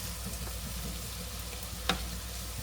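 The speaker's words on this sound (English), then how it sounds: "Let's stir up our peppers and peppers. You see how they cooking?" Peppers fry slowly in a skillet for cheesesteak, a soft continuous sizzle with a light stir and one brief scrape of the utensil.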